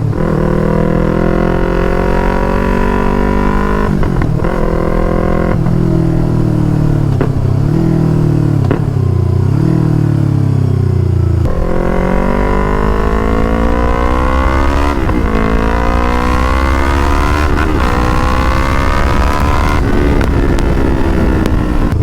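A Yamaha R3 motorcycle with a very loud full-system aftermarket exhaust, riding close up with a constant engine roar that rises and falls through repeated revving and gear changes, with wind rush and no voices.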